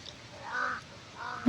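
A crow caws twice, moderately faint and a little distant, the two calls about half a second apart with a short sharp sound closing the clip.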